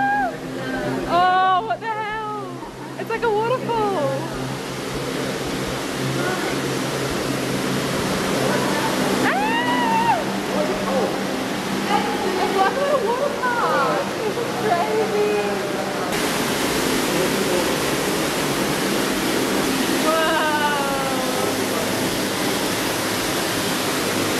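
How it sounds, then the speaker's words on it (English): Water flows steadily inside the TeamLAB Planet digital art museum in Tokyo, a continuous rushing wash under frequent excited voices and squeals from visitors nearby. "Oh my god, can you hear that water?"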